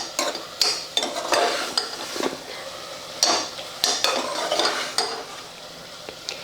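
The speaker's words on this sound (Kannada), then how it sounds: "ಇದನ್ನು ಸ್ವಲ್ಪ ಚಲೋ ಹೊತ್ತಿಗೆ ಮಿಕ್ಸ್ ಮಾಡ್ಕೋತೀನಿ." Tomatoes being stirred in a pan while cooking rice bath, with repeated scraping and clinking of a spoon against the pan over a soft sizzle, close and steady, no talking.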